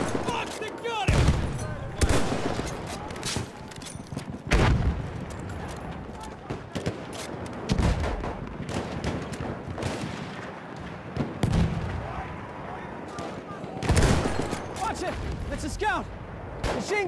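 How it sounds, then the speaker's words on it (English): Battlefield 1 combat in the Philippines brings heavy gunfire with repeated sharp bursts and booms, some near and loud, against a constant battle din, with no speech over it. "machine gun! One of theirs!"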